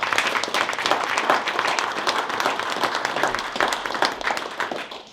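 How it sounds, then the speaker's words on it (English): A room at a chamber of commerce legislative breakfast applauds its sponsors with sustained, full clapping that stays loud throughout and tapers slightly at the end. "let's give all of our sponsors a round of applause"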